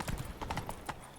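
Hoofbeats of the horse Roach in The Witcher game, a quick run of soft clip-clop steps close by, about half a dozen hits in just over a second.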